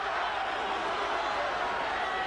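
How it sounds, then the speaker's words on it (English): A boxing crowd in Sheffield chants a fighter's name during a bout, a dense, steady roar of many voices filling the arena at constant loudness throughout. "Chant of Eubank right now with his crowd here in Sheffield"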